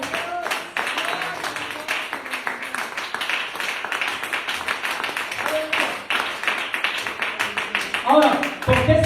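Church congregation claps loudly for the Lord in brisk, uneven bursts, with voices mixed in and a louder flurry of claps at the end.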